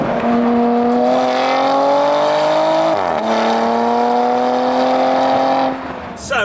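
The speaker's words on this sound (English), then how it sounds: "So you just lift off a little bit and you've got these burbles out the back of the car." Porsche Panamera Sport Turismo eHybrid with sports exhaust, a steady loud engine drone that burbles and shifts pitch around the middle as the throttle is lifted, close and continuous throughout.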